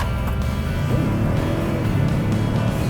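A 2022 Ford Expedition Platinum Max accelerates hard from a stop, its engine building a loud, steady rising drone heard from inside the cabin, with no one talking over it.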